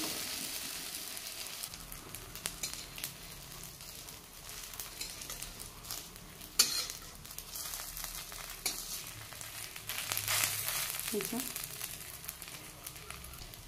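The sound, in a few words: frying narasingha (curry) leaf fritters in a little oil, stirring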